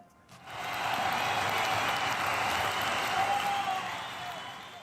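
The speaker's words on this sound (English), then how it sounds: "Round of applause for another week." Steady crowd applause, many hands clapping together at an even, sustained level for several seconds, fading slightly toward the end.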